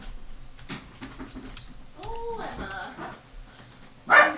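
A dog barks indoors, a few short sharp barks with one loud bark near the end, amid a person talking.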